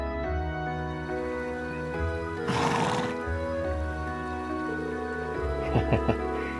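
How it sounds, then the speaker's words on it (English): In the role-playing game The Legend of Heroes: Trails of Cold Steel II, a horse lets out a loud whinny over steady background music, followed by a few quick clip-clop hoofbeats near the end. "Brushing Arthur and giving him all the care and adoration a horse could dream of"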